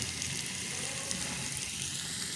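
Finely chopped medium-sized onion fries in hot oil that already holds cumin seeds, for a chicken kachori filling: a steady, even, close-up hiss of sizzling with no breaks.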